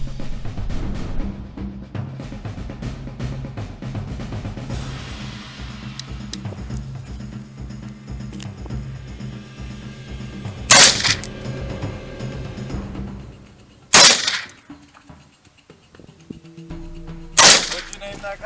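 An AR-15 rifle fired at a target: three sharp, loud cracks spaced a few seconds apart, after a stretch of quieter background sound and some talk.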